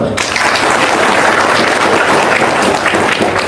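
A seated audience breaks into dense, steady applause that stays loud and even throughout the short stretch, with no pause or fade.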